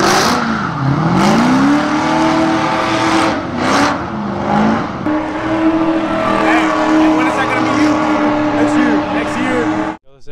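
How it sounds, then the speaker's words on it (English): A 1987 Ford Mustang Fox body project car revs loudly and steadily, its engine note rising and falling close by across the whole stretch, with a sharp cutoff at the end. "Eric, this is my 1987 Fox body."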